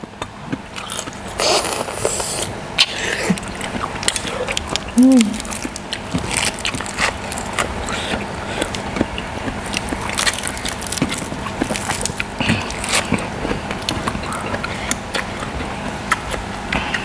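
Crunchy Luang Prabang papaya salad with shredded papaya and fresh shrimp being chewed up close, a long run of irregular crisp crunching and wet bites with small clicks throughout.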